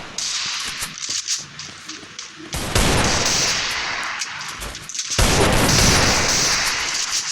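Gunfire in a mobile shooting video game lands a headshot, with two loud, sustained bursts of shots, one starting near the middle and another toward the end, over quieter game ambience.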